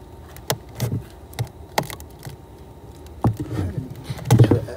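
Honeybees hum and buzz around a hive being worked at night, a close insect drone broken by scattered knocks and taps of hive equipment, with no speech.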